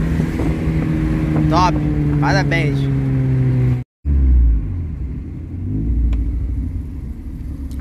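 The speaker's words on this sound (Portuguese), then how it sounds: "O escape ficou muito bem feito." A Chevrolet Corsa Wagon with a naturally aspirated 16v engine rumbles through its exhaust in a low, steady drone, with people talking loudly over it and a brief cut near the middle.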